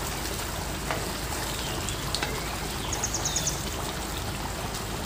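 Boiled chana dal goes into a pan of spicy beef curry, giving a steady close sizzle with faint bubbling and small clinks, no speech.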